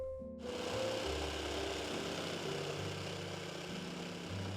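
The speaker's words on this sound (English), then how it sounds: "I used my jigsaw to cut out the first ring." A jigsaw cutting a ring out of wood buzzes steadily and close by, its rapid reciprocating chatter shifting slightly in pitch as it cuts, with no talking.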